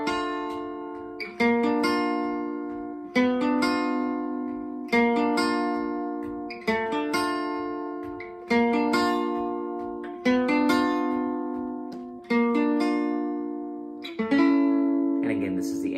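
Acoustic gypsy jazz guitar plays a tune's intro as separated plucked notes, each chord tone ringing out in turn, unhurried and clear at moderate volume with no talking over it.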